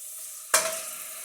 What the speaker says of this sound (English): we're going to add a chef's spoon of the Bengali Cook's tomato puree